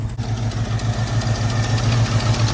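A 1977 Ford F250 truck engine idles steadily with a low, rhythmic throb and a slight miss, heard close and continuous without talk.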